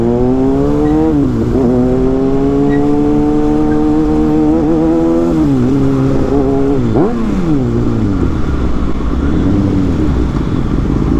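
Kawasaki Ninja ZX-6R inline-four sport motorcycle weaving through traffic, its engine loud and close throughout, the revs rising and dropping in repeated sweeps as it accelerates and shifts, with no talk.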